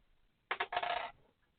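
Dice tumble across a hard surface, giving a quick rattling clatter in two short bursts over about half a second, close and distinct against quiet surroundings.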